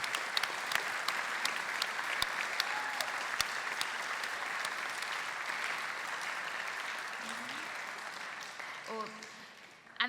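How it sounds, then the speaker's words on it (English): An audience at an awards gala bursts into sustained applause, dense clapping that holds steady for several seconds and then fades near the end. "Let's show our appreciation to our sponsors with a round of applause"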